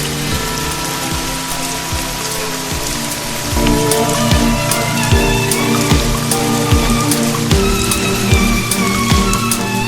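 Steady rain patters on a hard surface with scattered sharp drips and knocks, getting a little louder partway through; no voices.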